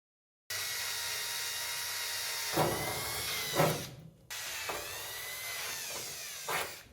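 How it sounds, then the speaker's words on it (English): A power drill whines steadily through a metal filing cabinet, rising and straining in bursts, with a brief stop before the motor starts again and keeps grinding. "after countless broken drill bits, all the holes are drilled"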